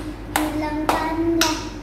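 Three sharp, evenly spaced hand claps ring out over a steady sung or hummed tone, from children keeping time during an online Sunday school worship service.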